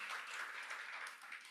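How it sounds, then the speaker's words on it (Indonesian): A church congregation claps together during a worship service, a faint, steady patter of many hands that carries on evenly from start to end, with no voices audible. "tepuk tangan buat Tuhan"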